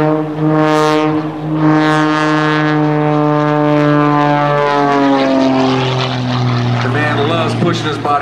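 Loud Extra 300 aerobatic airplane at an airshow, its propeller engine whining through a snap roll with sweeping pitch changes as it passes overhead, while an announcer talks continuously over it.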